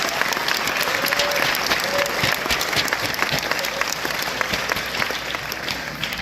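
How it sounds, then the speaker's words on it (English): A large crowd claps loudly and continuously at an outdoor MLK peace and justice march celebration, a thick unbroken roar of hands with a few faint voices and whistles poking through. "Clap your hands"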